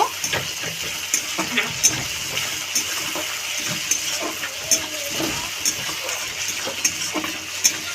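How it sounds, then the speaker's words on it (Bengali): Ginger-garlic paste frying with chopped onions in a pan, a steady broadband sizzle with intermittent scraping stirs and small clacks of a spoon throughout, close and moderately loud, with no talking. "দিয়ে ভালো করে ভেজে নেব"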